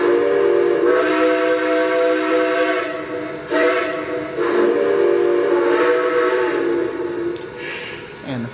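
Several steam whistle blasts from a Lionel Legacy Santa Fe 4-8-4 Northern model train, loud and close, a rich chord-like tone with short pauses between toots.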